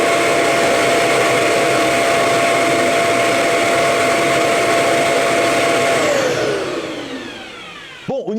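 Xiaomi robot vacuum docking station emptying its dustbin by suction, a loud steady roaring whoosh that holds for about six seconds, then winds down with a falling pitch and ends in a few clunks.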